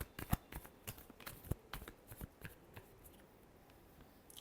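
Tarot cards are shuffled by hand in a quiet room, a quick run of crisp riffling snaps and flicks that thins out toward the end, close and fairly soft.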